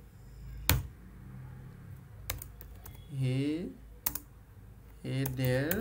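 Typing on a computer keyboard in the vi editor on Linux: quiet, scattered key clicks with a few sharp louder strikes, while someone talks over part of it.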